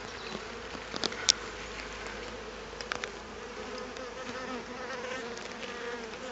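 A dense, steady hum of many honeybees buzzing close by inside a hive, with a few brief clicks and taps over the drone.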